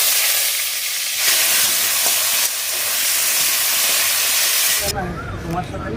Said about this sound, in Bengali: তেলটা গরম হয়ে গেছে, এবার আলুগুলো দিয়ে দেবো